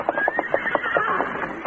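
A horse in a western radio drama whinnies loudly and close, a shaky, pulsing neigh of about seven rapid throbs that trails off.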